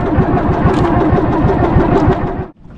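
A fishing boat's motor chugs loudly and steadily with a rapid rhythmic throb, then cuts off abruptly near the end.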